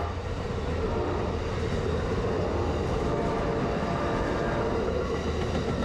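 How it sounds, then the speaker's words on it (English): The southbound Amtrak Floridian passenger train rolls past near Meyersdale, Pennsylvania, a loud, steady rumble of wheels on rails with a faint clickety-clack, close by and continuous, with no voices. "half an hour later, I saw the southbound Amtrak Floridian."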